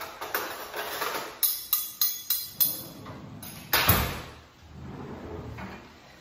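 Cutlery is tapped like a percussion instrument, a quick run of sharp metallic clicks and a steady series of strikes, followed by a louder hit and a fading scrape, close and alone.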